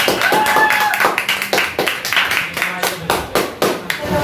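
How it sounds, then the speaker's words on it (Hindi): An audience of students and teachers at a school Independence Day celebration claps for a student speaker, a brisk, somewhat uneven patter of hands with distinct claps, while a few voices sound faintly beneath it. "सब लोग तालियों को बरसात किया जाए"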